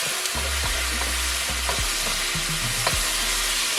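Steady loud sizzling of chop suey sauce mixed with mushroom sauce in a hot pan, with a spoon scraping and stirring through it in irregular strokes, close up and without speech.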